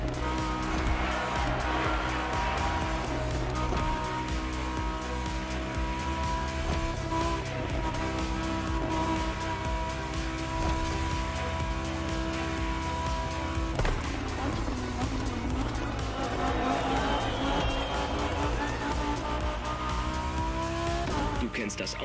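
Engine of a Liberty Walk customised Lamborghini Huracan Performante racing in The Crew Motorfest on Oahu, a steady loud roar with shifting revs and occasional tyre squeal, continuous throughout under game music.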